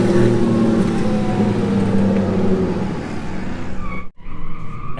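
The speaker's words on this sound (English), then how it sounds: "You can hear race cars in the background." Race cars drifting at the Apple Valley track during a beginners-only drift event: sustained engine roar with tire squeal, loud and continuous, briefly dropping out before resuming.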